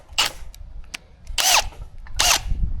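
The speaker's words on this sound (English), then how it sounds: "I'll take a drill bit and just bore these guys out a little bit," A drill bit bores out holes in a plastic cutting board on a surf fishing beach cart, with three loud broadband bursts of whirring and grinding separated by brief pauses.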